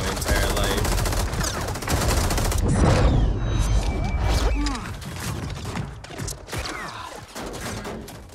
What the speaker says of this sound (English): That is the worst firefight I've ever seen in my entire life.